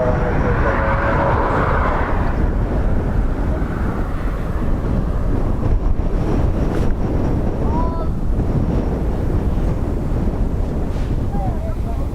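An airliner taking off at Dublin Airport, a steady broad jet roar with heavy wind buffeting on the microphone, loud and continuous throughout, with faint voices in the background.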